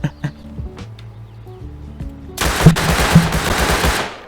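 A burst of rapid gunfire in the survival game Rust, erupting loudly after quieter game sounds and continuing as a dense run of shots until it cuts off.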